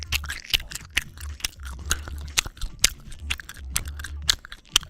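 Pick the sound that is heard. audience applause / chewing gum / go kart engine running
chewing gum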